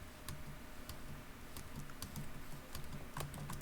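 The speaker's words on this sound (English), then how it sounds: "Keyboard." Quick, light clicks of typing on a computer keyboard, a rapid uneven stream of keystrokes, faint and close, with no talking.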